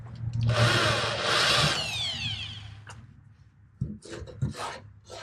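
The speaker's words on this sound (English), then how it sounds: "So keep drilling these out here." A power drill whines and grinds through aluminum rivets on an old Austin-Healey car body for a couple of seconds, then winds down, followed by a few scraping clicks and knocks.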